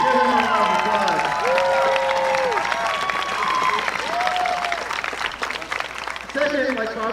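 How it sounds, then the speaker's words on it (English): Crowd applause at a high school football game honoring the band announcer, a broad wash of clapping heard under a loud voice talking over it. "Give him a round of applause."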